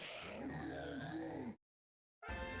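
A synthesized Probopass cry from Pokemon Black/White 2 plays as a buzzy electronic wail with a sweeping pitch, cuts to a brief silence, then a shorter burst follows.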